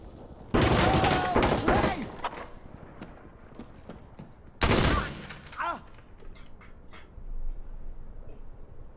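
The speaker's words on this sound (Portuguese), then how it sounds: "Got shot from the back." Bursts of automatic gunfire in the tactical shooter Insurgency: Sandstorm, two sustained loud volleys with scattered shots between them, heard from the player's position during a ranked match.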